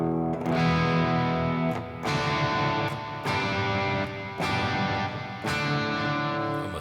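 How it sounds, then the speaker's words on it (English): Thick, saturated electric guitar through a double-stacked overdrive pedal into a lower-gain amp, sustained chords struck roughly every second or so, loud and full with a slightly smeared, effected tone. "that's like a double stacked overdrive pedal with less gain on the amp"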